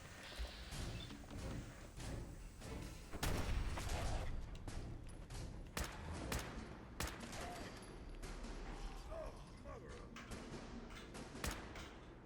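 Rapid gunfire in Fallout 4 against charred feral ghouls, a sustained fusillade of sharp cracks and bursts, moderately close, with dense shots clustering early and sporadic single reports later.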